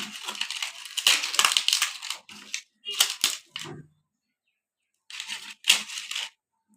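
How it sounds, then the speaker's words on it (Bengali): Papad being broken by hand into small pieces, producing bursts of close, dry crackling and crunching separated by a few seconds of quiet. "আমি পাপড়টা বাইন গেলাম ছোট ছোট টুকরা করুন"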